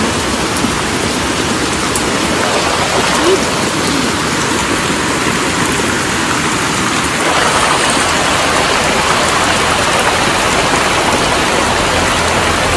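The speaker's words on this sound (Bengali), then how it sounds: "ভালোই জোরে জোরে বৃষ্টি এসে গেল" A loud, dense downpour roars without pause near an outdoor clay cooking stove, a thick wall of rain hiss that swells slightly stronger partway through.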